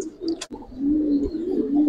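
A male Giribaz pigeon coos in low, soft, drawn-out murmurs, close by and fairly quiet, with a brief sharper chirp near the start.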